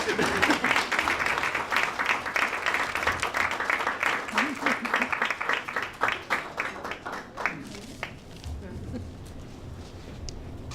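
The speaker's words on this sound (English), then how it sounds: "All right, let's give Glendora 2 minutes of applause." A Hall of Fame induction crowd claps steadily in loud applause, then it thins to scattered claps as it fades out.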